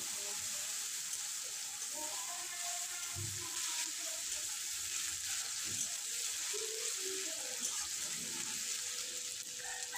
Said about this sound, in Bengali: এবারে একটা বড় সাইজের পেঁয়াজ কোচানো দিয়ে দেব। পেঁয়াজ লাল লাল করে ভেজে নেব।